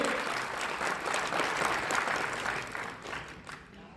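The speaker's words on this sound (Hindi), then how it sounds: "आप सब जोरदार तालियों से सर का अभिनंदन कीजिए" Steady applause from an audience at a Bihar Gramin Bank outreach program honoring an official fills the whole stretch, dense and continuous, tapering slightly toward the end.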